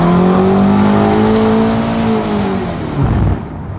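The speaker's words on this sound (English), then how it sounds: "That's what a fifth gear rolling burnout looks like." A BMW M3 CS engine roars loudly and close during a fifth-gear rolling burnout, the pitch sliding as the tires spin and squeal, tailing off near the end.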